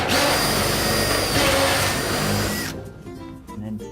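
A power drill re-drilling a hole in a roof whirs loudly and steadily for nearly three seconds, then cuts off, leaving quieter clatter and handling noise.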